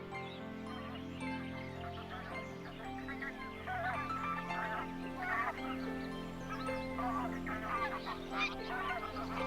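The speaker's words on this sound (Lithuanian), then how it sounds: "Stambus žąsų gagenimas, gulbių trimitavimas, žąsų girgsėjimas primena turgų." Greylag geese honk and cackle in a dense, overlapping chorus, like a bustling market, steady and fairly close throughout with no talk.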